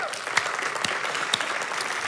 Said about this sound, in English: And give our online crowd a hand today.